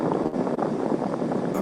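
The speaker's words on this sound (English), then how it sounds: "It's really windy here!" Strong wind buffeting a caller's phone microphone outdoors, a continuous loud roaring rush with gusty fluctuations and no speech.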